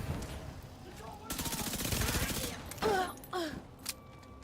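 Minigun and grenade launcher fire in The Division comes as a dense burst of rapid automatic shots lasting about a second, followed by a few sharper blasts, all mixed with game effects.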